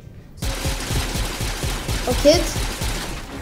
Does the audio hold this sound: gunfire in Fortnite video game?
yes